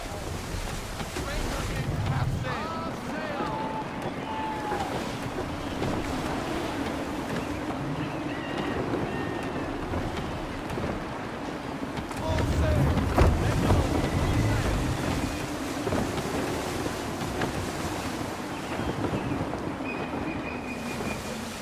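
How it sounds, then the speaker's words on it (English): Gusty wind roars across a sailing ship at sea in the video game Assassin's Creed 3, a continuous rush of wind and breaking waves that swells louder midway. "Wind looks to be shifting. Stay alert, Connor. Gusty winds can be difficult to manage"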